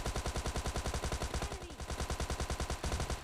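Automatic gunfire in PUBG Mobile Lite, a steady rapid stream of shots rattling on for the whole stretch with only a brief dip near the middle, loud and close.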